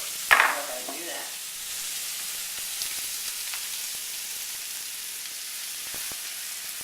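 Mushrooms frying in butter in a pan on a stovetop, a steady soft sizzle throughout after a brief louder burst of crackle at the start as they go in.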